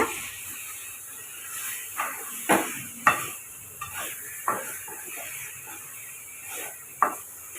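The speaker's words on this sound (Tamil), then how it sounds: "சிக்கனை நல்லா ஒரு அஞ்சு நிமிஷம் நம்ம வதக்கி எடுத்துக்கலாங்க" Chicken sautés in a pan for pepper gravy: a soft, steady hiss of cooking with periodic louder scrapes and knocks as it is stirred.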